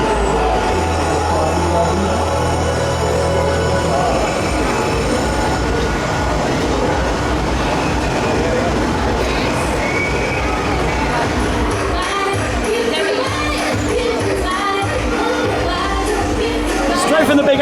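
The Big Apple roller coaster at Bottons Pleasure Beach in Skegness runs loudly, with a sustained rumble of rattling wheels on track and squealing, heard from onboard, while people talk over it.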